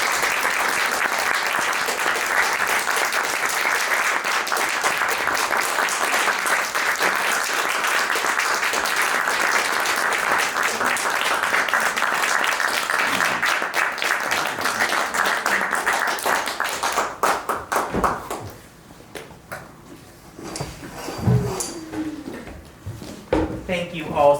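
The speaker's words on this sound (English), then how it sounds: "Let's have another round of applause." An audience at the end of a play claps loudly and steadily for a long stretch, then the applause thins out and fades to scattered claps and room noise.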